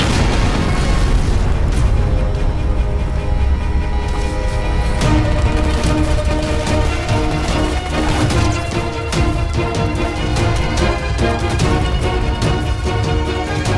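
Gunfire in a Hindi action movie scene, a loud dense barrage of booming shots and bursts with a steady music or effects bed beneath, continuous across the whole stretch with no pauses.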